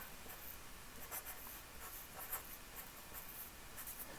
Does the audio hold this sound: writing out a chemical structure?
yes